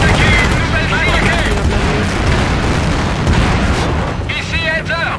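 Rapid gunfire and heavy booms aimed at enemy armour in the World War II strategy game Company of Heroes, dense continuous battle noise with shouted commands over it.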